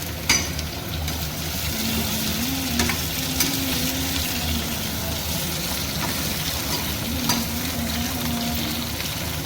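Potatoes, green chilies and soya chunks frying in a pan, stirred with a loud, steady sizzle and occasional clanks, while a low voice hums or sings faintly underneath.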